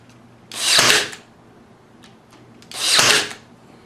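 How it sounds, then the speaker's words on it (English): Two short bursts of a power drill boring holes into wood for an RV pantry, each lasting about half a second, loud and close, separated by a quiet pause. "Drill out holes for them."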